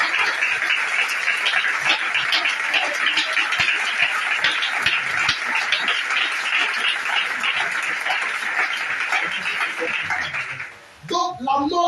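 A church congregation applauds and cheers in praise of Jesus, a dense, steady wash of clapping and voices held loud for about eleven seconds before breaking off near the end.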